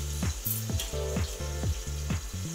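Three eggs sizzle and spit in hot oil for fried rice made with leftover cooked rice, a close, steady crackle broken by short bursts of louder popping.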